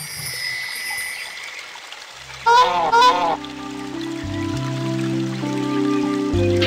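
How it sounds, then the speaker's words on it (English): Two loud goose honks sound back to back in the Disney Princess Enchanted Journey video game, set over a gentle trickling-water ambience and a swelling musical score. "My Abu was actually a goose."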